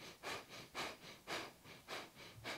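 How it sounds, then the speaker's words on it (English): Kapalabhati pranayama breathing done with a rounded spine: about six forceful, rhythmic nasal exhales, evenly spaced, close and fairly soft, with no speech. "So you round your spine, maybe even bring the chin forward, and then try this Kapalabhati breath."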